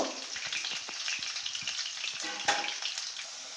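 Steady crackling sizzle of potatoes frying in hot oil, close and fairly soft, with occasional pops and stirring clatter.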